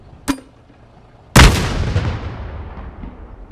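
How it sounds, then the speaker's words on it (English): A grenade launcher sound effect from an Unreal Engine 5 game audio setup: a short sharp click, then about a second later a single loud, deep thump whose boomy tail slowly decays. "For example, this grenade launcher, thump, I don't want it to duck the ambience"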